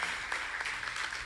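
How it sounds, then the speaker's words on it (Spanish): Congregation applauding in a church service, a steady broadband wash of clapping held for about a second with a few sharper accents and no talk. "Denle un aplauso a la naturaleza espiritual,"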